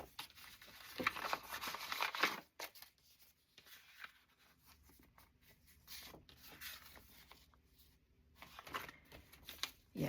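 Greeting cards and envelopes handled up close, giving soft papery shuffling, sliding and crinkling in bursts with quieter pauses between, no talking.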